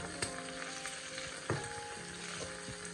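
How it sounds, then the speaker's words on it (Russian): Chicken gizzards frying in a hot pan, with a dense, constant sizzle and sharp spitting pops, two of them especially loud and close. "Стою на расстоянии, боюсь подходить. Очень сильно стреляет."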